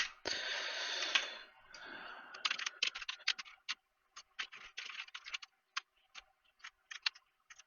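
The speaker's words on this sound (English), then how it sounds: "Let's do a little typing." Typing on a computer keyboard, a quick burst of rapid keystrokes followed by irregular clusters of crisp clicks with short pauses, close and fairly quiet.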